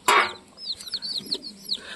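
Chicks in a new backyard cage give a run of high thin peeps, each one short and close and repeated rhythmically, after a louder opening squawk.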